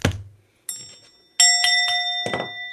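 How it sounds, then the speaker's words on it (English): A bell struck three times at spaced intervals, each strike ringing out clear and bright before fading, with a soft thump at the start. "I'm going to hit the bell."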